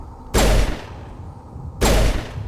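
Two heavy bursts of weapon fire from the Mass Effect video game, each a loud, sharp blast lasting about half a second, separated by a short pause with a low background hum.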